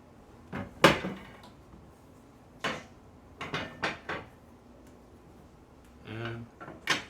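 Small metal doors on a Light Me Bright wood or charcoal rocket stove are opened and shut several times, giving sharp close clanks and rattling latches in irregular bursts with brief pauses between.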